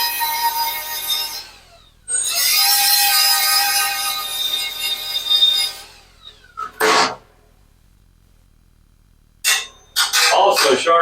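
Hedge trimmer blade being sharpened with a file while clamped firmly against a table, producing long loud rasping strokes in two main bursts followed by a few shorter scrapes.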